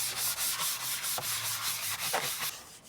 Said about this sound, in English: You just go around and just kind of scuffing the surface.